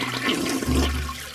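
A toilet flushes close by, a loud rushing gush of water that swells into a low, swirling drain roar and then eases off.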